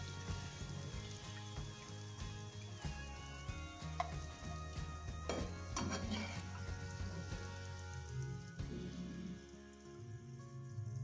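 Cauliflower 65 pieces frying in hot oil, a dense, even crackling sizzle close by with occasional sharper pops and clinks of a utensil, steady throughout.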